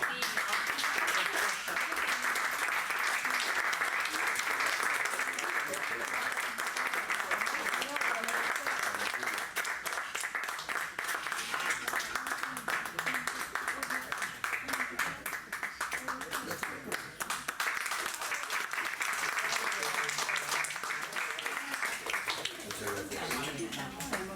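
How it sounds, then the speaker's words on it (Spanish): Sustained audience applause fills a hall at a human rights writers' event as a secretary receives his diploma, a dense steady wash of many hands clapping throughout, with voices mixed in underneath. "Ven aquí, Celestino, y darle un fuerte aplauso"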